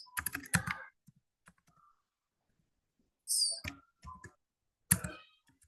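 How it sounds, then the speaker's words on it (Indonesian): Typing on a computer keyboard: a quick flurry of key clicks, then a few scattered taps and short bursts separated by silence, close and fairly crisp. "Ketik doang deh."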